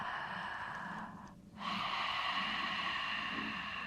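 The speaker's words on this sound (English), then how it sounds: "we want to take like big, nice breaths in from our mouth" A deep, open-mouthed breath drawn in during a tantric breathing exercise, a steady airy rush that briefly dips, then swells back strong and continues close to the listener.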